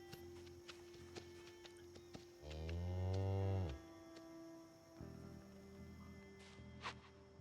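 Cows lowing in a farm survival video game, one long drawn-out moo rising over a steady ambient hum, with a few fainter game sounds afterward.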